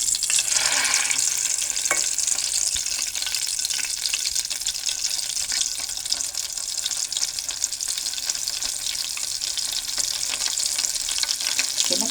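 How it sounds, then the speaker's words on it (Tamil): Dried fish frying in a pan, a steady, dense sizzle and crackle lasting throughout with a faint stir or clink near the start, no voices. "கருவாட்டி மட்டும் போட்டு பொரிக்கலாம்."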